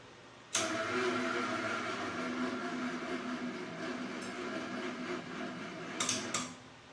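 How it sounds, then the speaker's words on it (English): A winch strains under load on a homemade single-post ATV lift, starting abruptly into a steady, laboring mechanical grind that holds for several seconds before cutting off, with a couple of brief sharp clicks. "That winch is not happy."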